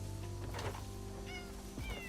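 A cat meows in a couple of short, clear calls over a steady low background hum, close and moderately loud, with no one talking.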